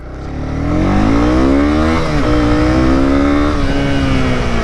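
A Honda CB 250 R motorcycle accelerates hard from close range, its engine note climbing steadily through the gears with a brief dip at a shift, loud and continuous throughout.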